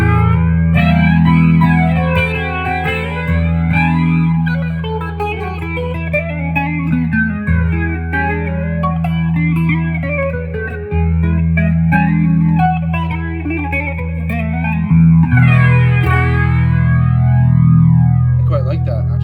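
An electric guitar runs through a PastFX flanger pedal, its strummed chords swept by a slow, whooshing jet-like flange that rises and falls repeatedly, loud and close throughout.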